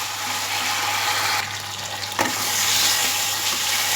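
Vegetables with drumsticks and spices being stir-fried in a pan, giving a loud, continuous sizzle with one short knock of a spoon midway, close and alone.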